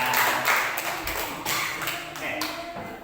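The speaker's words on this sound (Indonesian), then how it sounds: "Boleh tepuk tangan untuk semuanya." A classroom group claps for everyone, a busy, even wash of many hands tapping together at moderate volume, with some voices underneath as it tapers off.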